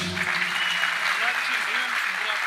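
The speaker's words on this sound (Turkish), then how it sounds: "Eren Özüperiz için de bir alkış." A large crowd at a memorial concert bursts into steady applause, a thick, even roar of clapping that holds for the whole stretch, with voices faintly heard beneath it.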